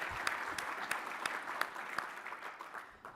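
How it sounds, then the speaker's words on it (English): A conference audience applauds, with individual claps standing out in a modest, fairly faint round that thins slightly toward the end. "Let's give another round of applause for Nick."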